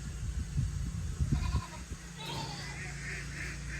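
Goats in a goat pen bleat in short calls over low rumbling background noise, with scattered thumps early on.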